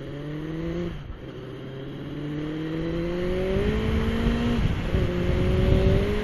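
Motorbike engine accelerating on a ride through the New Zealand countryside on an autumn day, its tone climbing in steady stepped rises through the gears over a constant roar of wind, with no talk.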